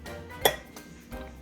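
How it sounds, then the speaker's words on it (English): An egg cracked and mixed in a bowl: one sharp clink of shell against the bowl rim, followed by softer tapping and scraping from stirring, close and fairly quiet. "Let's crack and mix this egg."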